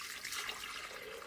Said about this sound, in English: So what we have to do is add 3 cups of water.